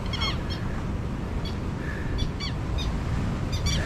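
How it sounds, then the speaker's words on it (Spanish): Repeated short honking bird calls, goose-like and harsh, sound several times at irregular intervals over steady outdoor noise on the Caracas–La Guaira road in Venezuela, fairly close and clear. "Mire, ese pájaro quiere atacar."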